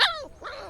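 Hyperactive puppy at a Sunday pet market yips once sharply and close, then lets out a short whining, whimpering bark.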